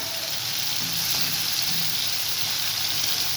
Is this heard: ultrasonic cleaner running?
no